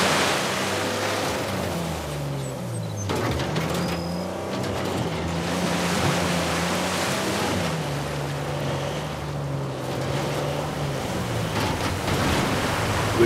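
A waterfall in the video game Uncharted 4 pours as a loud, steady rushing roar of falling water, broad and continuous throughout, with a low droning tone layered underneath and no speech.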